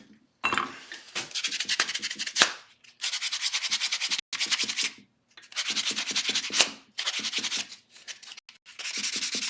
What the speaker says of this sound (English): I'll probably do some final buffing and polishing. Just using the buffing pads again.